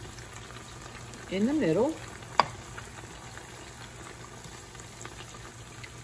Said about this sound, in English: I'm going to go ahead and drop my onions